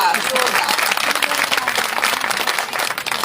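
Sustained applause from a gathering of colony women at an International Women's Day meeting, a dense, steady wash of clapping filling the whole stretch without letup.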